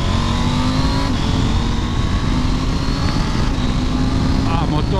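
Norden motorcycle engine accelerating hard while riding, a loud continuous roar with rising pitch, heard close up under wind rush.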